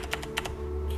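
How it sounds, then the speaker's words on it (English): Slow typing on a computer keyboard, a few separate key taps spaced unevenly over a second, close and clear above a low steady hum. "If you wonder why I tap so slowly, that's because when I record I have to move my keyboard to the side"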